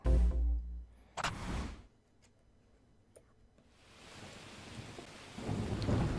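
Rain falls steadily on a trailer roof during a thunderstorm: a loud thunder crack and rumble open, then rain patters on and thunder swells again near the end.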